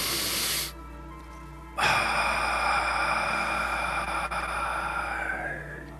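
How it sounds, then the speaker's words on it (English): Someone draws a long, deep breath in through the nose during a guided sunset energy session, a steady airy hiss lasting several seconds over a soft sustained musical drone. "Nice deep breath into the nose."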